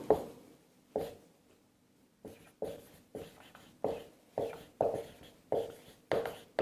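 Handwriting a definition in Hindi for a Class 12 physics lesson, pen strokes on paper in a steady rhythm of about nine distinct scratchy bursts, close and quiet, with short gaps between words.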